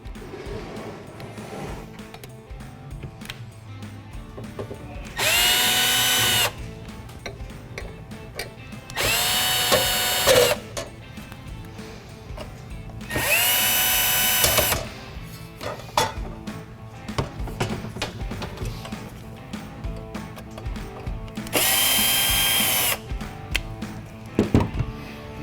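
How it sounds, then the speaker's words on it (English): A Phillips screw gun backs screws out of the blade guard on an HE&M 782XL benchtop saw, giving four separate whirring bursts of a second or two each, close and loud, with quieter handling clatter between them. "So first, let's go ahead and start to remove the screws."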